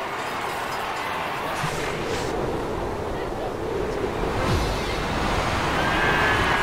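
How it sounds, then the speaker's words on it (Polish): Wind and rain in RTL Ski Jumping 2007, a constant broad blustery rush with a rain-like hiss that stays steady throughout. "Ojej, jaki beznadziejny wiatr. Jeszcze deszcz pada."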